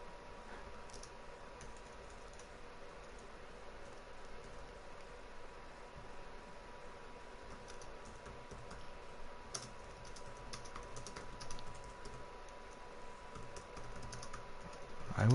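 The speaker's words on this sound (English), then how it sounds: "just for a minute whilst I type this in." A computer keyboard is typed on steadily for about fifteen seconds, with faint, quiet clicks and key taps over a low background hiss.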